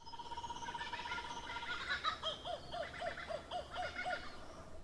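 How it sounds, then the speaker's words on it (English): Laughing kookaburra calling outdoors among other birds, with a rising, rhythmic series of hooting, chuckling notes that repeat quickly and build toward the end, moderately close and alone without talk. "The laughing kookaburra makes the most iconic laughing sound."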